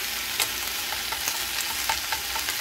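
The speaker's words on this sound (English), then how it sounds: "This is a sound I've been looking forward to since I started making the bacon." Homemade bacon frying in a pan gives a steady, close hiss of sizzling with small scattered pops and crackles throughout, no talk.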